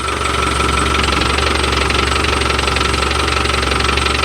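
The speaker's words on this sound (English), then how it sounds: "that's how much louder that clutch is" Land Rover Defender 110 engine running after warm-up with a noisy, worn clutch, giving a loud, steady rattling and knocking drone with a low hum, constant and close throughout with no talk.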